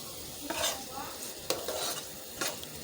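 Masala with mango pickle, fried for eggplant, sizzles softly in the pan while a spoon stirs and scrapes it in a few distinct strokes, close and quiet, with no voices.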